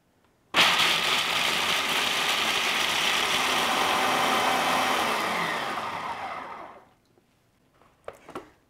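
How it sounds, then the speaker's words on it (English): Nuts for paleo granola pulsed in a food processor: an abrupt, loud, steady whirring roar lasting about six seconds that slowly winds down and cuts off, followed by a couple of faint knocks. "get all of your nuts in there, secure that lid on tight, and then you want to pulse them until they're well blended up"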